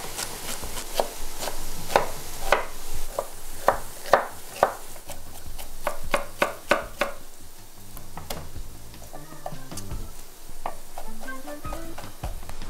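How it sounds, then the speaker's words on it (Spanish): Onion, carrot, garlic and celery are chopped finely on a board: a run of sharp, irregular knife taps, quick clusters then sparser strikes, over a low background hum with no talking. "Todo esto lo vamos a picar chiquitito y lo vamos a poner a dorar con aceite de oliva en este"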